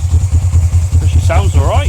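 A Suzuki GS500F motorcycle engine idles steadily with a low, even throb, while a voice speaks briefly over it near the end.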